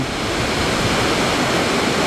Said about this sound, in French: Des belles cascades d'eau